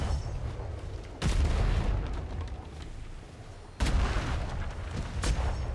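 Ship cannons firing in a pirate-themed video game: two heavy, booming shots several seconds apart, each a sharp blast followed by a rumbling roll, over a constant low background din.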